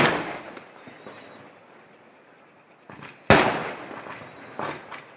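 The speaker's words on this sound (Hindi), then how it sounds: "हाँ हाँ, क्या बमों की घड़घड़ाहट।" Diwali firecrackers going off outdoors, with a steady crackle of distant bursts and one sharp, loud bang near the middle followed by more scattered pops.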